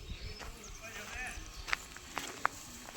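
A mare's hooves knock on the floor of a farm stall in a few sharp, separate clops toward the end, over a steady murmur of background voices.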